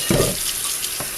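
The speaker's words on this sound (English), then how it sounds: "I'm going to go ahead and get some hot water going here" Hot water runs from a tap in a kitchen sink, a steady close splashing hiss with a brief gurgle at the start and a faint knock near the end.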